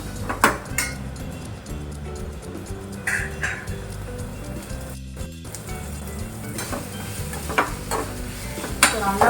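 Onions sautéing in a pan for goat brain fry sizzle under repeated clinks and scrapes of a spatula against the pan, close and irregular, with a faint background hum.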